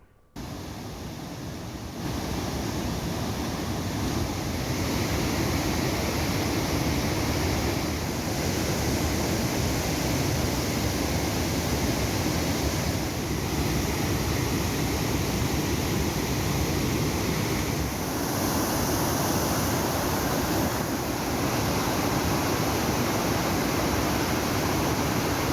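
Manimuthar waterfall in the Western Ghats near Tirunelveli, swollen after heavy rain, gushes in a loud, steady, unbroken rushing roar of water with no voices.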